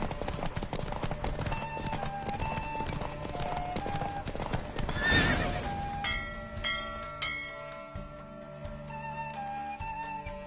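Horse hooves clip-clop in a steady galloping rhythm during a race in The Witcher 3, loud and close at first, then giving way to game music and bell-like tones in the second half.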